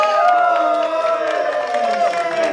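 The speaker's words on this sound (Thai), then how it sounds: "ขอเสียงปรบมือให้กับผู้ชนะของเราวันนี้ครับ" At a company sports day, the audience applauds the winners, with light clapping running beneath loud cheering voices and steady shouting that fill the space throughout.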